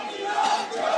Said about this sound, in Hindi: कि जो एक दूसरे के नेता हैं उनके ऊपर यहाँ पर हूटिंग हो रही है